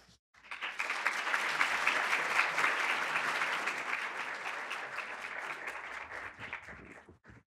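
Audience applause at an architecture forum in Novi Sad: a sustained, dense round of clapping from a seated crowd, loud and steady for about six seconds before tapering off, with no talk over it.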